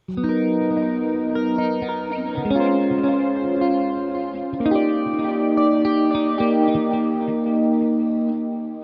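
An electric guitar plays sustained chords and notes through the vibrato effect of a Valeton GP200 multi-effects unit, the pitch wavering steadily, loud and alone with no talk.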